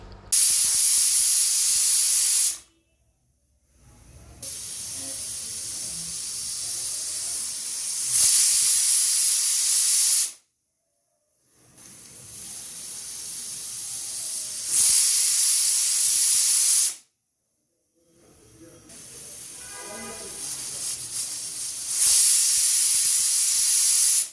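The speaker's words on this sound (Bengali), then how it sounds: "প্রেশার কুকারের ভেতরে যে বাড়তি বাষ্পটা আছে সেটা আমি বের করে দিচ্ছি" Loud, harsh bursts of hissing steam venting from a pressure cooker while cooking pork, repeated in long blasts separated by brief near-silent gaps, with faint clatter between.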